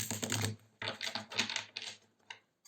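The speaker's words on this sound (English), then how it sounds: "shuffle once more." Tarot cards shuffled by hand in short bursts of dense, crisp riffling, a long flurry followed by several quicker ones with brief pauses between, close and fairly quiet with no talking.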